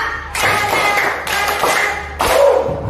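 A classroom group of second-grade children claps in unison, a few loud synchronized claps in sharp bursts, close and fairly busy, with no talking.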